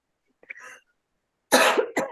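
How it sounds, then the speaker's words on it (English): Coughing during a relaxed podcast conversation, a small muffled throat sound followed a moment later by a sharp, close cough with a short second burst, otherwise quiet. "got a cough out of you"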